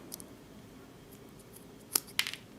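Paracord wrapped on a Gerber Shard is snipped short, two quick crisp cuts close together after a quiet pause, faint and close by.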